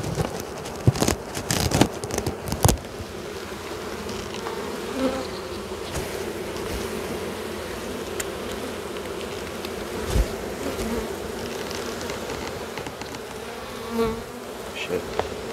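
Honey bees buzzing around an opened hive during a beekeeping inspection: a dense, continuous hum of many bees close by, with handling clatter and knocks early on and faint movement sounds later.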